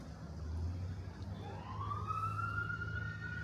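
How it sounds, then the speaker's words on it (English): An emergency siren rises in pitch and holds a wailing tone, moderately distant, over a low rumble of traffic. "I heard the sirens back there."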